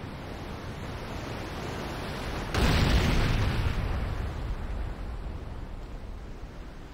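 Building explosion in the video game Renegade: a broad roaring blast erupts a few seconds in over steady noisy background rumble, then slowly decays into a sustained wash.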